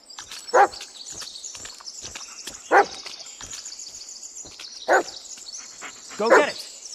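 A dog barks in the horror video game Blair Witch: four sharp, separate barks spaced about two seconds apart, over a quiet ambient bed with faint rustling and footstep-like sounds.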